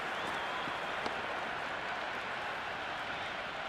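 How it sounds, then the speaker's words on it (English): Cricket stadium crowd at a T20 World Cup match between Australia and South Africa cheering after a boundary, a loud, steady wash of roaring and applause that holds throughout, with a faint voice beneath. "It's almost palpable, the excitement emanating from this crowd at the moment."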